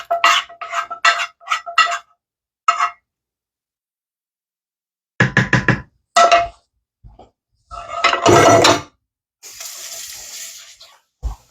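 Hamburger mixture dumped from a pan over rice in a casserole dish: close, loud bursts of scraping, clanking and wet slops, separated by silent pauses, with no one talking.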